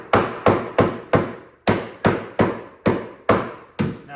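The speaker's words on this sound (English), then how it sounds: "There are a couple nails. Just gonna hammer them" Nails are driven into a wooden arcade cabinet with about a dozen sharp, evenly spaced hammer blows, each ringing briefly, close and loud with no talk.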